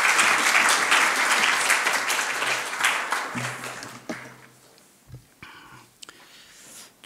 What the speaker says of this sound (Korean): 박광철 목사님께서 어떻게 살 것인가라는 제목으로 말씀 나누실 때 우리 나오실 때 우리 한번 큰 박수로 환영해 주시면 감사하겠습니다.